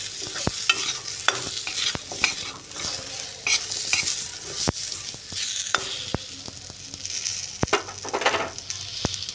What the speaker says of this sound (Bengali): ফোড়নের সাথে একটু হলুদ দিয়ে আলুটাকে একটু ফ্রাই করে নিচ্ছি।